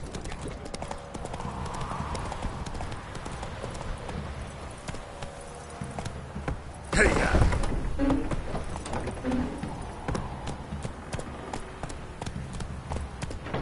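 Continuous galloping hoofbeats of a horse in The Witcher 3 video game pound along steadily, with a brief louder burst midway and faint game sounds in the background.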